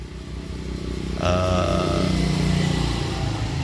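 Motorcycle engine with a carburetor fault running unevenly and sputtering, a steady close idle that rises in level partway through and carries a wavering, irregular tone with no talk over it.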